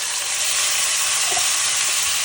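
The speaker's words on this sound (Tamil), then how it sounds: "இப்போ வந்து கடுகும் கருவேப்பிலையும் லைட்டாக பொறிஞ்சுட்டு வரேன்" Mustard seeds and curry leaves frying in hot oil, giving a steady, close, even sizzle with no voices.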